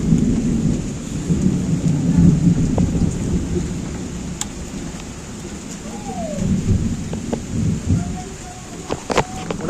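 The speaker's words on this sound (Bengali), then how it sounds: "বাইরে শুরু হয়ে গেছে প্রচুর বৃষ্টি আর বিদ্যুৎ চমকাচ্ছে হেভি" Heavy rain pours steadily outside with deep, rolling thunder rumbling through it, swelling and fading, plus a few sharper cracks and drips close by.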